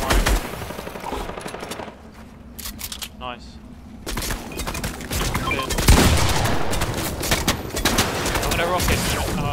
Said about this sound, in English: Oh, I just got shot through the wall, they double sprayed.